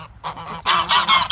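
Several geese honk close by in a quick, loud burst of overlapping calls, with a softer honk just before.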